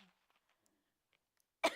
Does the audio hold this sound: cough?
yes